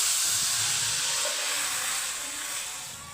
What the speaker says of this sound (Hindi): तो इसके बाद डाल देंगे हम पालक।